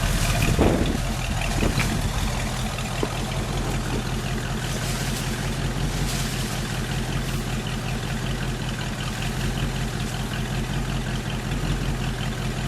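A 1955 Chevrolet Bel Air two-door hardtop idles with a steady, low engine rumble that stays even and close throughout, with a brief clunk near the start and no talking.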